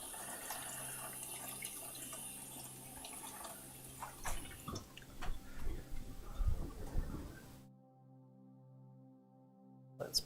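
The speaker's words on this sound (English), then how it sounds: "And so I'm going to slice that up. Give it a quick rinse off first." A piece of fresh ginger is rinsed under a running kitchen faucet, with a soft steady water stream and spatter that stops abruptly, followed by faint ticking.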